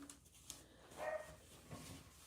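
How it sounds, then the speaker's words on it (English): A dog barks a few times at a distance, muffled and fairly faint, with short gaps between the barks. "Y'all hear him barking?"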